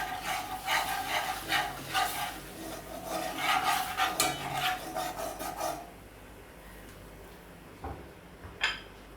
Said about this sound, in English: So I'm gonna burn my curry in the hot oil